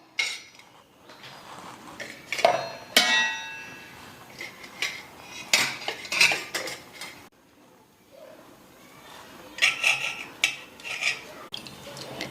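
Goat spleen is chopped into pieces with a knife, giving sharp, irregular clinks and taps of the blade against a board or vessel, with short bursts separated by brief pauses, close and fairly clear.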